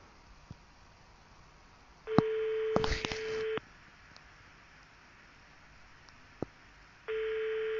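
A telephone ringback tone on an outgoing call, two long steady ringing bursts about five seconds apart, with a brief clatter of handling noise during the first ring and faint line hiss between.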